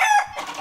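A spun toy of dead chickens gives off a burst of loud clucking and crowing, brief and close, ending in a rough noisy squawk.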